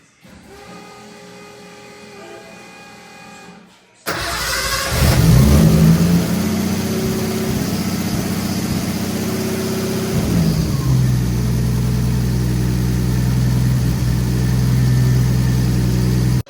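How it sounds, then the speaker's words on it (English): A Nissan RB20DET engine fitted with a full 3-inch stainless steel exhaust cranks over and fires up on its first start, then settles into a loud, steady idle close by after a quiet stretch. "we're going to start up the car and set our initial static timing"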